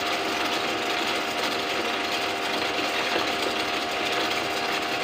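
Engine of a big DIY toy helicopter running steadily, a loud, continuous high-pitched buzzing whine with a constant tone and no pauses.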